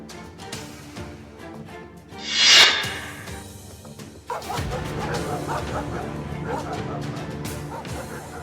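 A pack of stray dogs in Sankhla village, Alwar district, barks and yips amid a noisy outdoor scene, with a sharp crash partway through and voices talking over the commotion.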